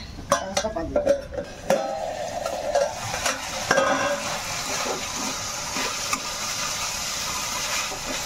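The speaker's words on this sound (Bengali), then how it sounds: "ঢাকাটা খুলে একটু নাড়াচাড়া করে দিয়ে দেখুন বন্ধুরা" Taro (kochu) cooking with katla fish in a pan is stirred with a metal spoon, giving a burst of clanks and scrapes at first, then a softer, steady sizzle with occasional taps.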